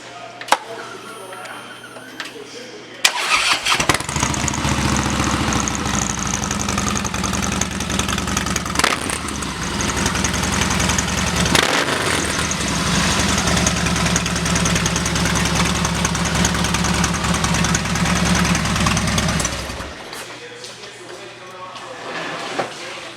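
A 2013 Harley-Davidson Softail Slim motorcycle with an upgraded exhaust fires up after a few quiet seconds. It then runs at a loud, steady, deep idle for about sixteen seconds before shutting off, with no talk over it.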